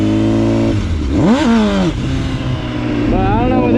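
A 1000cc motorcycle engine idles and then revs up sharply in one rising surge that falls back, followed by a second shorter climb, loud and close, with someone talking over it.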